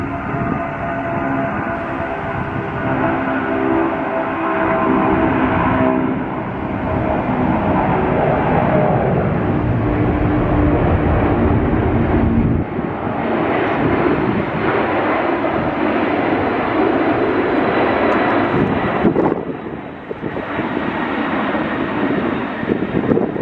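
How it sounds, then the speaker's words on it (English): A KC-10 jet tanker takes off at Travis Air Force Base, a loud, continuous engine roar that swells and shifts over more than twenty seconds, heard from nearby on the ground. "Another KC-10 taking off."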